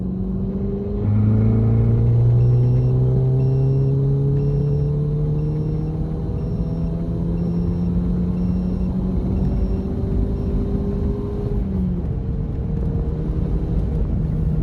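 Volkswagen MK7 GTI engine pulling hard in third gear from about 2,500 rpm, a loud, steady rising drone with climbing harmonics for roughly twelve seconds, then a sudden drop as the throttle lifts.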